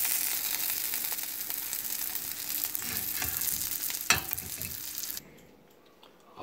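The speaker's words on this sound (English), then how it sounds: "make sure that you toast the bun, little butter, and grill the bun" Buttered buns toast on a grill for sliders, giving a steady close sizzle with faint scraping and crackles, one sharper click near the end before the frying fades to near quiet.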